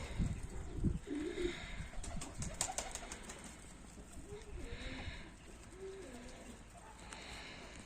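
German breed pigeons coo softly in a loft shared with young birds, low rolling calls repeating near and fairly quiet, with wing flutters and shuffling, and someone talking over them.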